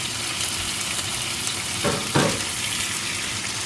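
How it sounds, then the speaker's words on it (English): Salmon pieces frying in a pan, a steady soft sizzle with a couple of brief sharper bursts of spitting midway, no talking. "In the meantime that the salmon is cooking"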